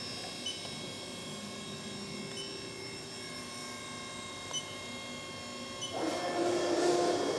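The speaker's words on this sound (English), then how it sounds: "now we will turn the spindle back on and cycle start" A milling machine spindle runs steadily while cutting the valve port of a Stoker steam engine, a constant mechanical hum with a brief rush of coolant-like hiss swelling near the end, with no talking.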